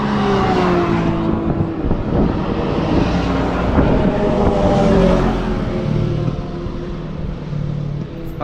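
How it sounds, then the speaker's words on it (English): An RC car fitted with a sport motorcycle engine runs close by, producing a loud, continuous high-revving engine whine with rising and falling pitch over a few seconds. "That's a crotch rocket motor."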